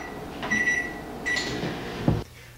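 A microwave oven hums in two steady stretches with a bright tone over a low drone, then a short thump ends it before quiet.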